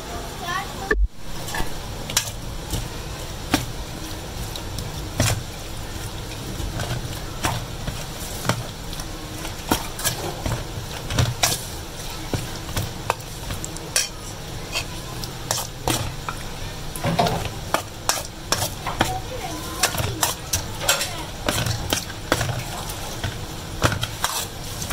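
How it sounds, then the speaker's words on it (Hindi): Onions, tomatoes and green chillies fry in a pan for Punjabi-style chicken achar gosht, giving a steady close sizzle broken by frequent clicks and stirring taps, with a voice speaking over it. "प्याज टमाटर हरी मिर्च हमारे को अच्छे से भून चुकी है।"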